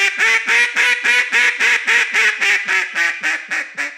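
A duck call is blown in a rapid string of about fifteen evenly paced quacks on one breath, its pitch climbing and then falling back down, loud and close.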